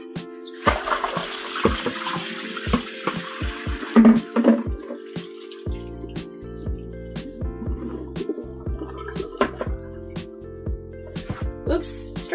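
Strawberries are rinsed under a running kitchen tap. Water splashes and gushes steadily, with clattering and dripping as the fruit is handled, and someone speaks over it.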